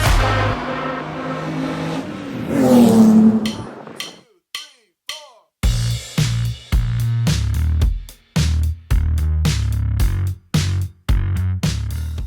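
Loud car engines rev hard and roar in repeated bursts with short gaps at an underground night race, the throttle blipping up and down over a rumbling idle.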